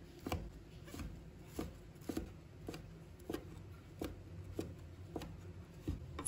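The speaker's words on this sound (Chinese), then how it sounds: "再把它切碎一点，这样吃起来口感更好。" A knife chops pitted red date (jujube) flesh on a cutting board, a steady run of about a dozen crisp, close thuds spaced roughly half a second apart, with no talking.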